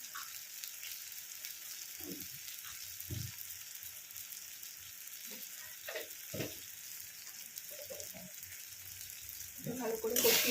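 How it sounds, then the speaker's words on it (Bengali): Turmeric, Kashmiri red chilli powder and tomato sautéing in a pan for chana dal, with a low, steady sizzle broken by several soft scraping stirs and a louder burst at the end. "ভালো করে কষিয়ে নেব।"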